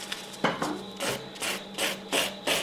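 A handheld nail file rasps against a fingernail, shaping it square in repeated short strokes at a steady rhythm, close and fairly loud, with no talking.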